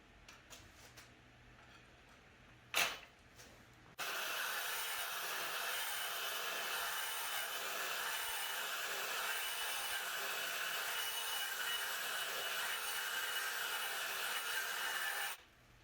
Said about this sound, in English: Let's take the Porter cable with the same blade and let's see if it'll finish this cut over here that the XTR could not.